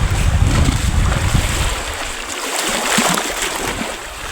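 Sea waves roll and wash at Alibuag beach under gusting wind that buffets the microphone, a continuous loud, rushing surf with no clear voices.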